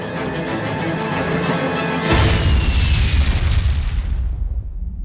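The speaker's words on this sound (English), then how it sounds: "Those fireworks should be going up any minute now." Fireworks go off in a Tom and Jerry cartoon: a loud, sudden booming burst that breaks over a busy musical background and then crackles and fades away.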